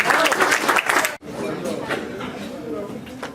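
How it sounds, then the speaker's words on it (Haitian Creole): An audience claps at a ceremony honouring a hospital doctor. The burst of applause is close and brief, then cuts off into low crowd murmur and talking. "Applaudissez, s'il vous plaît."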